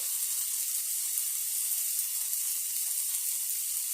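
Minced garlic sizzles steadily in a hot pan, a continuous close hiss and crackle with no talking.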